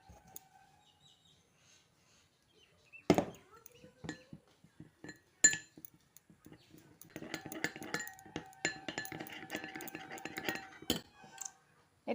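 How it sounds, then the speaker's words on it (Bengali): A spoon stirs a spoonful of flour with a little water into a paste in a bowl. Soft, irregular clinks and taps come in quiet surroundings, with a few sharper knocks and a denser stretch of stirring toward the end. "ময়দাতে অল্প একটু জল দিয়ে ময়দাটা ভালো করে গুলে নিচ্ছি।"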